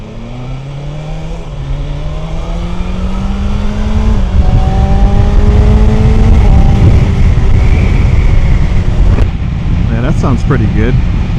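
A BMW M1000XR motorcycle accelerates steadily, its engine note rising through the gears amid growing wind roar, loud and close from the rider's position, ending in a burst of rushing air.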